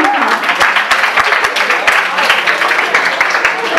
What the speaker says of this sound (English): Everybody clap for Skanda.